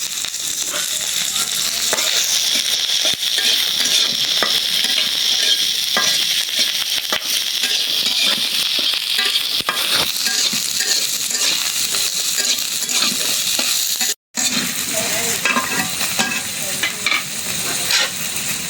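Garlic and chillies fry in hot oil in a pan, giving a steady, close, bright sizzle with scraping stirs throughout and a brief break near the end.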